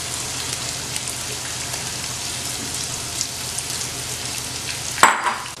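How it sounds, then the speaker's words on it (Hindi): Cauliflower frying in hot oil in a kadai, a steady dense sizzle and crackle throughout, close and even, ending with a sharp clatter and a brief burst of louder spattering. "मैंने कढ़ाई में तेल गरम करने के लिए रखा हुआ है और अब इसे गोल्डन ब्राउन करना है"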